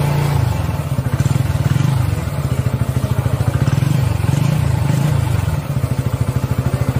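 A TVS XL 100 Heavy Duty moped idles and revs close up, its exhaust, fitted with a long metal heat plate, giving a steady thumping putter with rhythmic pulsing and slight swells in loudness throughout.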